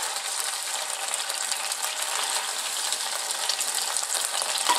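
Beef for Chinese pepper steak, coated in oyster sauce, soy and cornstarch, stir-frying in a hot pan with a steady, loud, hissing sizzle that barely changes throughout.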